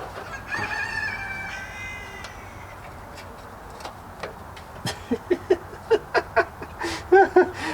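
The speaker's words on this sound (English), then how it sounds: "My neighbor put one of those like chicken bark collars on his rooster." A nearby rooster crows, a long rising call at first, then gives a quick run of short, evenly spaced clucks that grow louder toward the end, with no speech over them.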